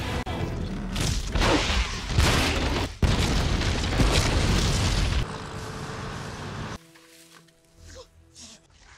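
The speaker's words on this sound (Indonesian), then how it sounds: "flare yang dilemparkan oleh Ben membuat bubuk mesiu di ruangan tersebut terbakar dan membuat kapal kuno itu meledak" An ancient ship blowing up as gunpowder ignites in the film National Treasure: heavy roaring blasts and booms with rumbling debris, easing into a quieter tail with faint scattered sounds.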